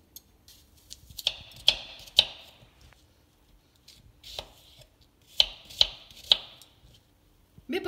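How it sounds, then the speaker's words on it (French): Apples are cut into small pieces with a knife, giving sharp, irregular chops on a board. Short clusters of knocks are separated by quiet pauses, close and crisp, with no voices. "Je vais commencer par éplucher mes pommes et ensuite les couper"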